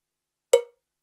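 A single cowbell sample strikes once, sharp and bright, from a DJ mixer setup. It decays quickly into silence.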